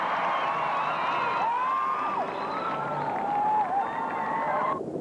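Crowd during a royal visit at the Kodak Pacific Bowl in 1986, cheering with loud sliding whistles over a broad, sustained roar of voices and clapping from many people.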